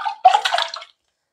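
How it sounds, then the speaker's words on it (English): Two cups of water poured into a cooking pan on a stove, a short splashing pour that starts, swells briefly and stops after under a second, close and alone. "now I'm going to put 2 cups of water in the pan"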